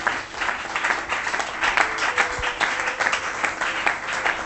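A church congregation applauds and acclaims the Lord together during a worship service, a steady broad wash of clapping that holds for several seconds with no single voice standing out.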